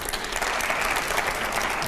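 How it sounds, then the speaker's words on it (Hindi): Loud, sustained applause from the crowd at a debate event, dense clapping that stays level for two seconds without speech. "जरा जोरदार तालियां हो जाए पहले"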